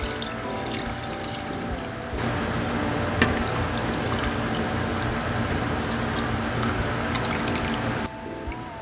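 Broth (sabaw) being poured into a pot of pares, a steady close splashing and trickling stream of liquid that swells louder midway and eases near the end, with no talk.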